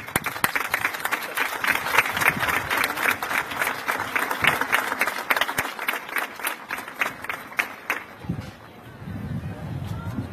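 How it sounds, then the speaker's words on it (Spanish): Applause from the crowd at a town's 105th anniversary ceremony, many hands clapping with sharp individual claps standing out, fading away near the end into a quieter murmur and low rumble. "pido también un aplauso"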